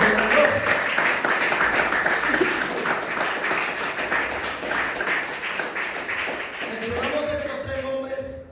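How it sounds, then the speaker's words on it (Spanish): Church congregation clapping together during a Spanish-language service, a dense sustained wash of hands that thins near the end as a voice starts speaking over it. "Démosle un fuerte aplauso al Señor."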